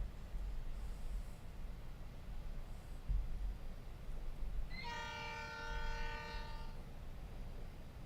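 The prototypical diesel locomotive horn in the Trainz 2019 railroad simulator sounds one multi-tone blast of about two seconds over a low, steady rumble.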